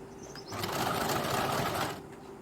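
A sewing machine sews a seam on a princess-cut deep-neck blouse in one short, close whir lasting about a second and a half, with quiet room sound before and after.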